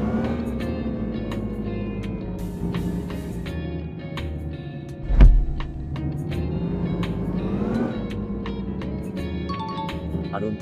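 A bus engine droning in the Indian Bus Simulator mobile game, a steady tonal hum that rises and falls in pitch as the vehicle moves. It comes with scattered game clicks and a brief thump near the middle.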